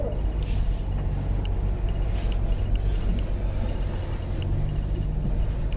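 A Ford car with a 6F35 transmission and a suspected bad converter or stator rolls slowly around a parking lot, giving a steady low rumble and road noise with faint hissy swells, heard from inside the car.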